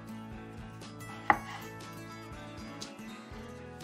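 A knife chops onion and mushrooms on a cutting board, a steady run of soft, rhythmic thuds with a couple of sharper knocks, close up and with no talking.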